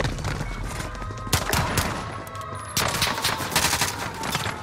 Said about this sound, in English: he's shooting from the other side